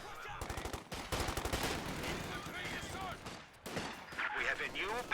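Machine gun fire rattles in fast, close bursts during a real-time strategy battle with tanks and flamethrowers, mixed with other gunshots and explosions while a commentator talks over the fighting.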